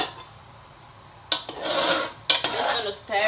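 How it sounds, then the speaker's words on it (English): A spoon stirs efo elegusi, a Nigerian spinach and melon-seed soup, in a pot, giving two bursts of scraping and clinking against the pot after a quiet start, up close and without talk. "just gonna stir it so it doesn't get burnt"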